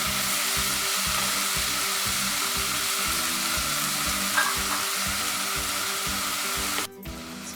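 Aloo methi sabzi of potatoes and fenugreek leaves sizzles steadily in hot oil while being stirred, with a dense frying hiss and a regular rhythm of spoon scrapes throughout, no talking.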